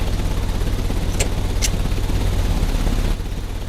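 An engine in the Kew Gardens scene of the game Sherlock Holmes: Crimes and Punishments gives off a steady, loud, low droning hum throughout, with two faint high clicks partway through and no speech.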